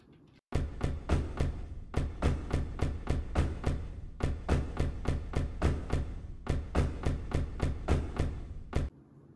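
A BMW sports car body struck as a mid-tom percussion sample, played as a quick, evenly spaced run of loud, punchy hits in grouped bursts with brief pauses, no voices.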